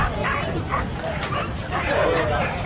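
A small dog yips and barks repeatedly during a run in the small-dog semi-final at an international agility competition, with the barking set against an arena crowd and a commentator talking over it.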